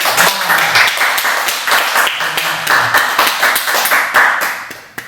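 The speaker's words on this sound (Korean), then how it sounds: "자, 박수 한번 주세요." A meditation-class audience claps steadily and loudly for several seconds, dense overlapping hand claps fading slightly at the end, with no talking over them.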